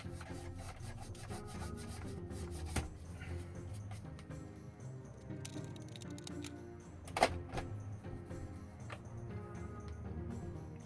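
Paint is wiped off a Nerf MA40 blaster with soft, continuous close rubbing strokes, broken by a couple of sharper knocks against the plastic. No one speaks.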